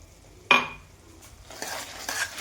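A utensil scrapes and stirs spices frying in a pan with white pepper. There is a sharp clink at first, then a soft sizzle and scraping strokes, fairly close and with no voices.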